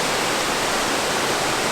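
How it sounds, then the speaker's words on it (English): A waterfall in the Scottish highlands pours over a ledge into a ravine, giving a steady, dense, loud rush of water with no other sounds and no talking. "is the waterfall, and then it goes down into a ravine down here."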